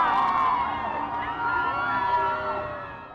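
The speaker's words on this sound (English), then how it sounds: "The crowd also cheered when Pope Francis thanked them for giving him such a warm welcome." A large crowd cheers and shouts for Pope Francis during his visit to the U.S.-Mexico border, a loud sustained roar of many voices with whoops that swells and then fades.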